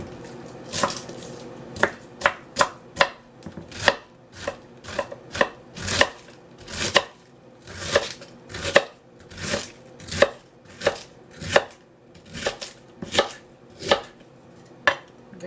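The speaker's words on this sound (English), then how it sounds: "Chopped up my cabbage too nicely." A knife chops cabbage on a cutting board in a kitchen, preparing Ghanaian jollof rice: a steady series of about two dozen sharp, close knocks, loud and evenly spaced, with no talking.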